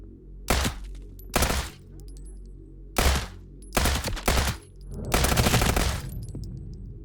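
Gunfire in the video game Transience: five heavy bursts of rapid shots, the first four short and separated by brief pauses, the last a longer sustained volley, loud and close with no talking.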